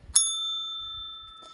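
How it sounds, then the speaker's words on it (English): A small hand bell struck once to open a session, giving a bright ring that hangs and slowly fades, with faint low sounds underneath. "I've got my bell."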